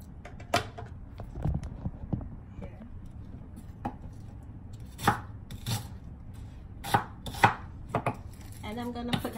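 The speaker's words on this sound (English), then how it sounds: "small onion, half of it. I'm gonna cut that up." A knife chopping half a small onion on a cutting board while preparing a marinade for tamarind chicken wings, with irregular sharp close knocks spaced out and a few quicker cuts near the end, in a quiet kitchen.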